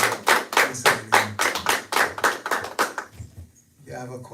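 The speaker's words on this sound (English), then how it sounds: "Give my hand of applause for Miss Eileen." A small audience claps hands in a steady, rhythmic beat for about three seconds during a live event, then fades into a quieter stretch, with a voice talking over the clapping.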